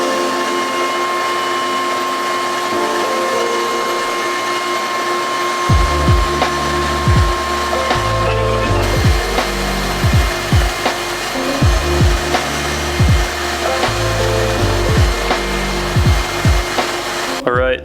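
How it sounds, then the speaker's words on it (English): A wire brush scrubs a BMW wheel hub clean while a motor hums steadily; halfway through, rhythmic back-and-forth rasping strokes begin, loud and close, repeating in quick bursts to the end. "after working with the wire brush for a while"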